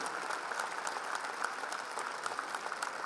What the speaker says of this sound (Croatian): I velikim aplauzom nagradimo treću nagradu publike, Mirakul!